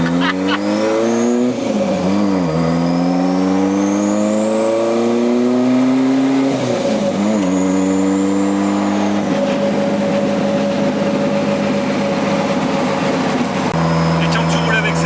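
A Renault 5 Turbo replica revs hard close by, its engine pitch climbing, dropping and climbing again through loud, raspy sweeps, then settling into a throbbing idle, with people talking over it.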